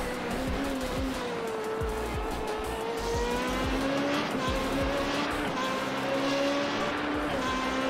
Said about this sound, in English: Let's go on board though with the driver of Oli Cuoco right now, as he is on a lap, heading himself down into Acqua Minerale